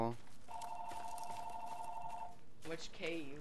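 A telephone bell rings steadily for about two seconds at moderate volume in a survival game setting, with voices talking around it.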